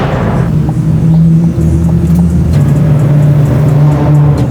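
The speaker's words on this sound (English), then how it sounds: "the Lamborghini is revving away" A rear-wheel-drive Lamborghini Murciélago engine revs and roars on a Los Angeles street at night, rising and falling with deep rumbling tones, close by and continuous.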